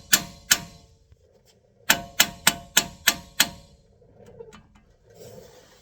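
Hammer whacking the lower ball joint of a 2015 Chevy Silverado 1500, heard as two sharp metallic blows followed by a quick run of five evenly spaced strikes, close and loud, with quieter scraping afterward.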